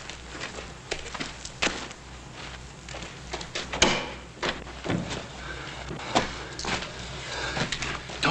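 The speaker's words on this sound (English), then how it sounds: "Don't close the door so we can hear if anyone's coming." A wooden stable door is handled, with scattered creaks, knocks and thumps plus shuffling footsteps, one sharper bang midway, at moderate distance with no talking.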